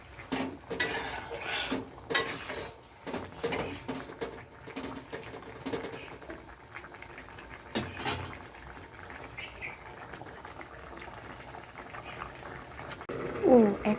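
A spoon or ladle stirs food in a metal cooking pot, giving scattered scrapes and clinks against the pot sides over a low simmering background. No one speaks.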